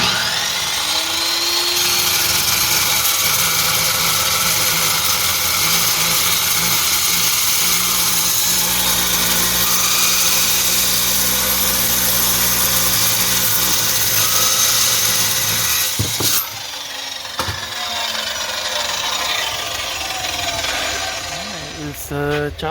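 Power tool grinding and cutting through brand-new axle brackets during a four-link Currie 9-inch solid axle install on a C3 Corvette, a steady loud whine running for about sixteen seconds before stopping, followed by a few sharp clanks.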